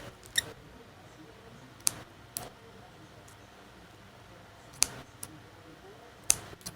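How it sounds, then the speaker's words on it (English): Scissors cut slowly through the packaging around an anime figure, making several sharp, isolated snips spaced a second or more apart, close against a quiet background. "We're gonna cut it very, very slowly."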